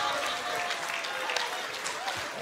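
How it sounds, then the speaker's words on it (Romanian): A studio audience on a television game show applauding, a dense, continuous spatter of clapping from a crowd, fairly loud and steady throughout. "A aplaudat că s-a terminat."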